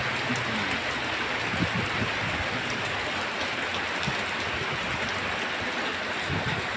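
Steady rain falls in an outdoor setting, a dense continuous hiss of drops on surfaces with faint low patter, constant and fairly close throughout, no voices.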